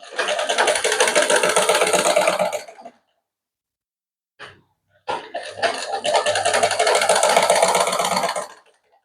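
A sewing machine stitches a shirt in two loud, close runs of fast, rapid clatter, separated by a few seconds of quiet and a brief mechanical tap.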